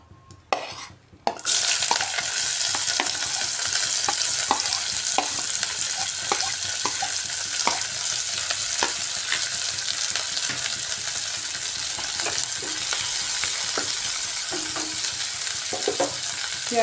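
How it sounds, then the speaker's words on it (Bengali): Chopped onions hit hot oil in a pan for egg kosa, sizzling and frying steadily and loudly throughout, with repeated scrapes and taps of a spoon stirring them against the pan after a brief quiet start. "এবার এর মধ্যে কুচিয়ে রাখা পেঁয়াজ দিয়ে দিচ্ছি"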